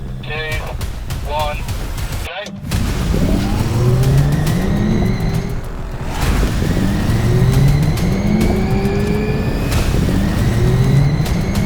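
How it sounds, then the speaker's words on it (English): A sports car in sport or track mode launches at full throttle: the engine roars loudly and climbs in pitch, with a sharp break at each gear change before it winds up again, close and sustained. "No real drama to launching this car, put it in sport or track, pin the throttle, see what happens."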